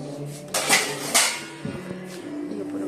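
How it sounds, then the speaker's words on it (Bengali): Dishes and utensils clatter as they are put away in a home kitchen, several sharp metallic clinks and knocks close by. "বাসনগুলো তোলা হয়নি, বাসনগুলো তুলে দিই।"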